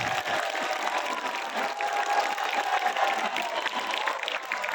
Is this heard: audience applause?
yes